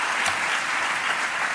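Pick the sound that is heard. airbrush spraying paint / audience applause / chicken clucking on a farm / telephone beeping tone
audience applause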